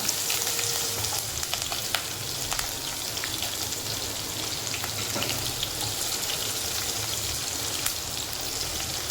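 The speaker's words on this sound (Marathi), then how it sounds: "ते मिरच्यानं असं आपण परतून घ्यायचं थोडा वेळ" Green chillies, ginger and asafoetida sizzle steadily in hot oil with curry leaves while making vermicelli upma, a dense, continuous crackling fry with scattered pops, close and even throughout.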